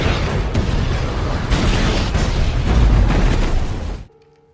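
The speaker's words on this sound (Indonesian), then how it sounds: "Karena tak ada pilihan lain, Ronville pun meledakkan ranjau yang telah ia pasang." A landmine detonates in the I Am Legend film, a loud sustained blast and roaring debris rumble lasting about four seconds before cutting off abruptly to near silence.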